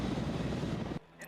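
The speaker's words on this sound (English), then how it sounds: "What you're hearing right now is the default feedback you'd hear in a chopper." Helicopter interior engine noise in the Arma video game, a loud steady rotor-and-turbine roar that cuts off abruptly after about a second, leaving a faint quiet tone.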